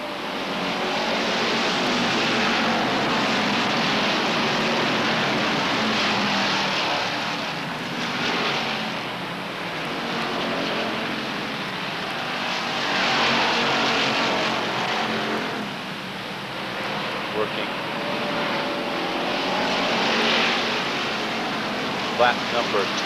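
Race cars lapping at Beech Ridge Motor Speedway during weekly stock car racing in 1992 make a loud, continuous engine roar that swells and eases as the pack passes, with an indistinct voice faintly beneath the din.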